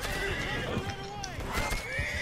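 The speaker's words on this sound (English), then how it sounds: "I just punched my horse in the face" A horse in Red Dead Redemption 2 online gives a loud, wavering whinny over continuous hoofbeats and busy game noise.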